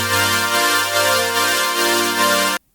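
A sustained Nexus synth chord layer for a future bass drop holds a thick, bright, harmonically rich chord with gently pulsing swells for about two and a half seconds before stopping cleanly.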